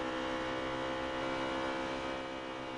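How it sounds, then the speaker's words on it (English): Onboard engine drone from the number 9 race car, a steady harmonic hum at a fairly constant pitch, faint and without clear throttle changes. "You can hear him in and out of the throttle saving fuel right now."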